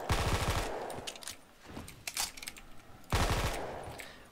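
Bursts of gunfire from the Blundergat in a Call of Duty Zombies custom map, Mob of the Dead bridge: a loud rapid volley at the start, scattered shots in between, then another close, heavy burst.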